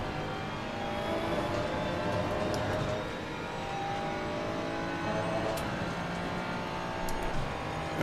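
Race car engine in a racing game on the Austrian circuit, held under steady throttle with a constant high buzzing drone, loud and close with no pauses.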